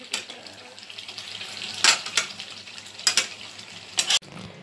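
Spice paste sizzling in a pan, stirred with sharp scraping strokes at irregular intervals over a steady frying hiss.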